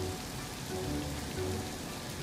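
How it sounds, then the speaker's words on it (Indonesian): Steady rain falls, a continuous dense patter on a surface with no voices, heard alone throughout. "Sedang hujan seperti di sini?"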